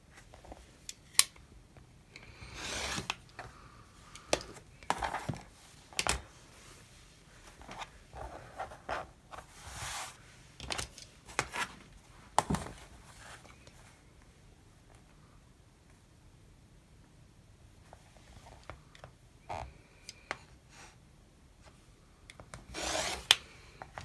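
Quilt fabric squares being cut along a ruler: soft, intermittent scraping and rubbing strokes in short bursts, fairly quiet, with stretches of near-silence between them and no talking.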